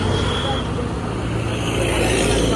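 Steady road traffic of motorcycles and cars on the Banda Aceh–Medan road in clear weather, a continuous broadband rumble of engines and tyres with no single vehicle standing out, loud and close throughout.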